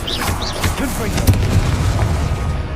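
A Confringo spell explosion in the video game Hogwarts Legacy gives a dull booming burst midway, under ongoing game effects and a speaking voice.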